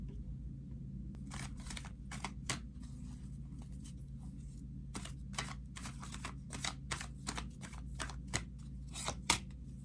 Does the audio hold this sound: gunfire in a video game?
no